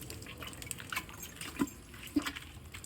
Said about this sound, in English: Just gonna water this one.